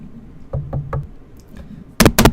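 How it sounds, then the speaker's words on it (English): Knocking on a door in the video game Asagao Academy, a few knocks in a light rhythmic series, then a loud close pair of heavy thuds near the end, with no talking. "Knock, knock. What was that noise?"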